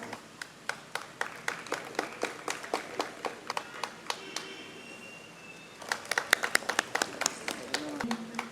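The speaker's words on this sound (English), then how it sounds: "Audience, a big round of applause." Audience applause, thin and rhythmic, with sharp claps at a steady beat that pause briefly in the middle and then resume.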